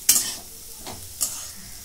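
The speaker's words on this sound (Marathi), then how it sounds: "आता कारले मी चांगलं असं तेलात परतून घेतलंय" Bitter gourd fries in oil in a kadai, a soft sizzle interrupted by two sharp scraping stirs of the spatula, close and otherwise quiet.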